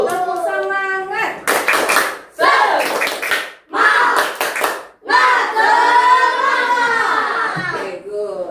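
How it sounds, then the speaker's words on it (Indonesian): A group of children and adults clapping a rhythmic cheer routine in a classroom, several bursts of patterned claps broken by chanted voices, loud and close. "Tepuk semangat."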